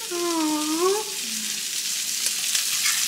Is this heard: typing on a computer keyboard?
no